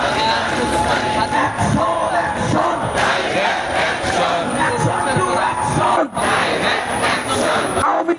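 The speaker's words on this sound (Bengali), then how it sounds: "আজাদি আজাদি বলে স্লোগানগুলো দেওয়া হচ্ছে" Large protest crowd loudly chanting slogans in unison, a dense continuous roar of many voices with rhythmic rising shouts, close and steady throughout with a brief dip near the end.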